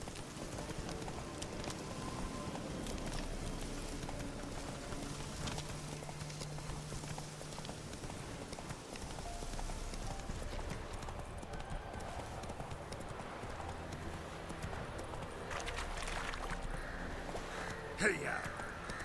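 Hooves of Roach, the horse in the Witcher 3 video game, clip-clop in a steady gallop through most of the stretch, with a voice talking over the hoofbeats now and then.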